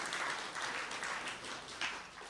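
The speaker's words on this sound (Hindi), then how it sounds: "तालियां तो बजाओ भाई दादियों के लिए।" An audience at a spiritual discourse on a good-wishes life claps in broad, sustained applause, a continuous patter of many hands that swells and dips, with no talk over it.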